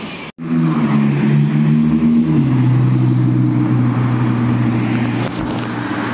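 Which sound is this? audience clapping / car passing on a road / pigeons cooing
car passing on a road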